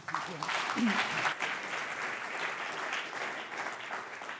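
Sustained, dense applause from a symposium audience on water operator partnerships, a steady wash of many hands clapping that fills the room for several seconds.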